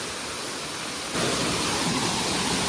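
Rushing water at Usgaon waterfall near Usgaon Dam makes a dense, steady roar that jumps abruptly louder partway through, then holds constant and close.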